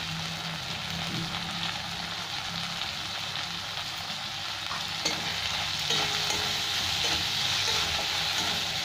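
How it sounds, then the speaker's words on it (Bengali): Chopped tomatoes fry in a pan with ginger and garlic, giving a continuous close sizzle with faint stirring scrapes throughout and no talking. "সাথে দিয়ে ভেজে নেবো ভালো করে, টমেটোও গলে যাবে"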